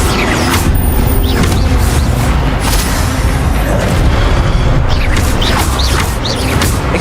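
Incendio fire spell unleashed in the Hogwarts Legacy video game: loud, continuous roaring blasts and crashing impacts layered in constant battle noise, with repeated sharp bursts across the span.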